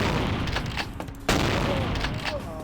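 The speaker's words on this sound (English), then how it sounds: "Oh, fucking Knife Man is making me use my shotgun." Shotgun blasts in the vampire action game Vampire: The Masquerade - Bloodlines, a loud boom cutting through a dense, busy mix of game sound with talk over it.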